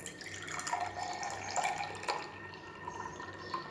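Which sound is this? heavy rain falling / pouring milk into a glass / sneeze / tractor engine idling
pouring milk into a glass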